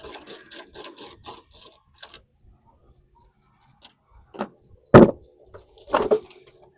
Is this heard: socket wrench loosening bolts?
yes